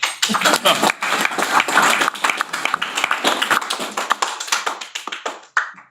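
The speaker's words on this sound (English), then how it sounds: "You can clap if you want." Councillors and attendees at a council meeting clap together in a moderate, fairly close burst that fades gradually over about six seconds, with a few last scattered claps.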